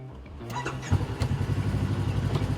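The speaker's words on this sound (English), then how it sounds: "you're more interested in what happens after you start the engine" Kawasaki Teryx KRX 1000 UTV engine cranks briefly, catches with a burst and settles into a close, steady, throbbing idle.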